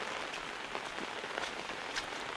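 Steady rain falls on a village of stilt houses of the Lào Kang people in Nghệ An, a close, even patter with scattered louder drops and no voices.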